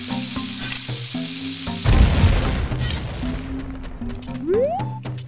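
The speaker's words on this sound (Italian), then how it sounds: "Mettiamo la bomba." A bomb going off in The Legend of Zelda: Ocarina of Time: a burst of noisy blast rising out of game music and effects about two seconds in, then fading as the tones resume and a rising chime sounds.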